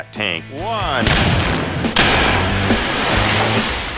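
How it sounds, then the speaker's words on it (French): A hunting shotgun fired at a water tank, a loud blast followed by a heavy crash and rushing noise, preceded by a brief rising tone. "une balle tirée avec un fusil de chasse a beaucoup plus de puissance et le réservoir n'a pas supporté"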